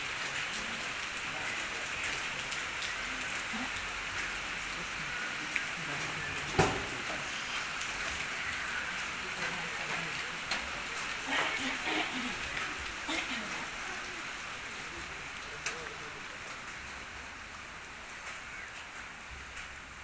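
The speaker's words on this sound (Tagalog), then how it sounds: "Ayan, maulan na umaga." Rain on a wet morning patters steadily over surfaces in a continuous soft wash with occasional louder drips and knocks nearby, and a voice speaks briefly over it.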